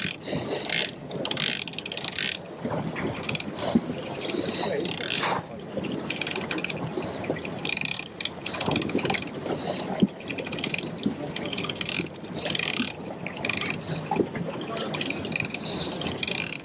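Fishing reel cranked on a charter boat while fighting a UK bluefin tuna, a busy ratcheting, clicking mechanical whir with splashy wind and sea noise, voices shouting now and then.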